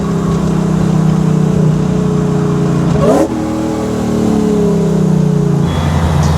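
A supercharged V8 drift truck with a newly fabricated custom exhaust revs loudly nearby, a deep sustained burble with a sharp rev sweep midway before settling back to a throaty idle.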